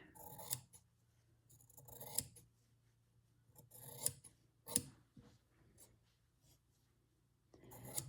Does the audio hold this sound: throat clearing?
no